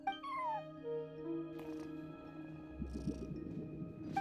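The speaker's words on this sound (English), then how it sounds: "No one except for a cat watching over the front desk." A cat at a front desk in Genshin Impact meows in short rising and falling calls over soft ambient game music.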